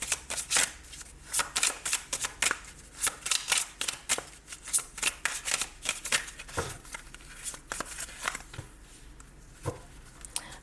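Oracle cards are shuffled in a quick, steady run of crisp riffling flicks and soft slaps that continues unbroken for about ten seconds, heard close up with no talking over it.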